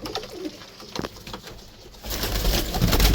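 Pigeons coo softly amid rustling and handling noise as they are caught and packed into boxes. The scuffling grows louder and denser in the second half, with no talking.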